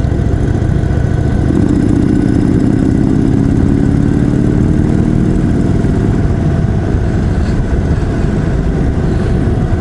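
A 2021 Indian Chief Dark Horse big custom cruiser thumps loudly and up close at low revs with a deep tractor-like throb, briefly pulling up in pitch before settling back into a steady rumble.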